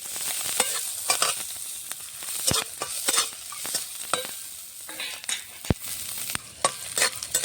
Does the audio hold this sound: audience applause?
no